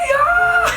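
A soap opera character in a 2019 telenovela screams while falling: one short, loud, high wavering cry that rises and then cuts off.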